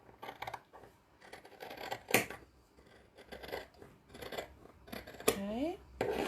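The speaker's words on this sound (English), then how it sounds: "And then I just want you to trim these edges" Quiet, close snips of scissors trimming the edges of a handmade book cover in short irregular bursts, with a few sharper clicks and faint voices in the background.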